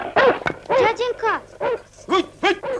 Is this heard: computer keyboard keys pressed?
no